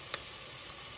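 Onions cooking in a pot as the base for ham and potato soup, a steady, fairly loud sizzle that fills the whole short stretch with one faint tick near the start, no voices.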